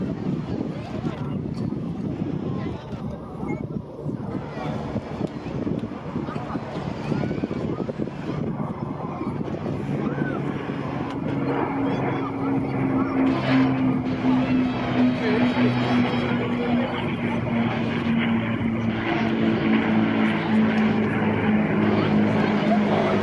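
Avro Lancaster bomber at an airshow over Blackpool, its piston engines drone steadily and loudly through wind buffeting for over twenty seconds, with a rising tonal hum as it passes over.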